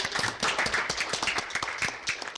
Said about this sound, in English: Actually, can we clap for all of you guys?